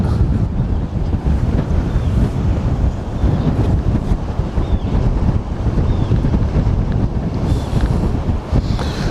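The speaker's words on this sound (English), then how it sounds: "as the ship comes here, the wind picks up again" Wind buffets a microphone at sea beside the Westerschelde while a large container ship passes, a constant loud low rumble and roar with gusty fluctuations and faint higher hiss, no talking.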